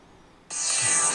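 A podcast interlude sound plays from a phone app's sound library, a bright tonal burst that starts abruptly and holds steady for a moment.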